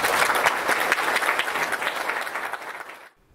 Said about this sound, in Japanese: それでは皆さん拍手でお迎えください